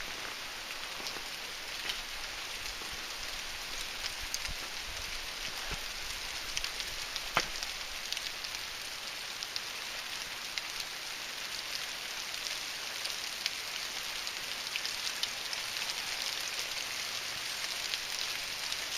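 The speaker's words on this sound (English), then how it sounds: "Well, it's still raining, so I made a decision." Steady rain falls throughout on the Ozark Trail in the woods, a dense continuous patter of drops on surfaces with no voices, holding an even level for the whole stretch.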